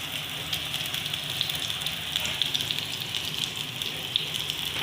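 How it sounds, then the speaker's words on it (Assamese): Nutrela soya chunks fry in oil in a pan, giving a steady, fairly quiet crackling sizzle with dense fine hiss and small pops throughout, no voices. "নিউটেলাখিনি ভালকৈ ভাজিব লাগিব।"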